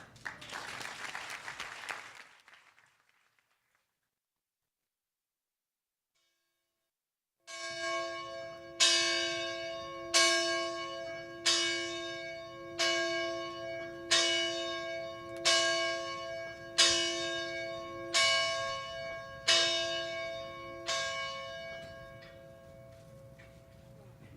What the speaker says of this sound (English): to try to get 16 rings right out of that old bell, is Monica Allen